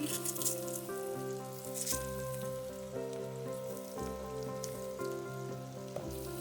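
Butter sizzles steadily in a hot pan as the start of a roux for macaroni and cheese, a continuous close hiss beneath soft background music.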